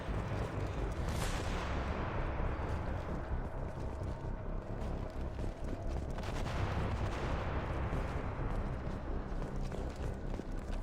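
Rapid, continuous gunfire and explosive bursts from a firefight in the video game Mass Effect 2, dense and loud throughout, with a few sharper blasts standing out.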